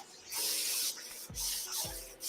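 A water spray bottle hisses in a few quick bursts, close up, with short trigger clicks between the sprays.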